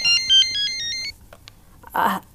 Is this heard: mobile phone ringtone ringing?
yes